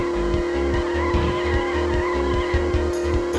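A kart drifting in Gadget Racers on PS2, a sustained buzzing engine drone with tire squeal running continuously through the turn, alone with no voices.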